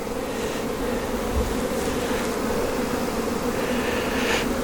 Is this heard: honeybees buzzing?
yes